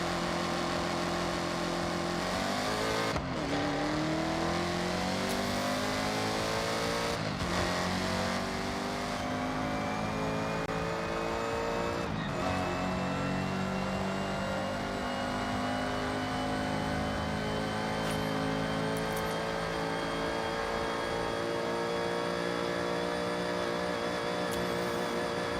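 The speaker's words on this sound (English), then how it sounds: "Let's go to the highway, and let's top this thing out." A car engine in the Forza Horizon racing game winds up hard on a highway run toward top speed, climbing steadily through several gear changes and holding a loud, sustained high-rpm drone with no talk.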